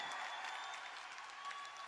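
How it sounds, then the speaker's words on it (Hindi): Applause from an indoor crowd, a steady wash of clapping at moderate distance that continues evenly throughout. "अरे इस पे तो खड़े होके ताली होनी चाहिए यार"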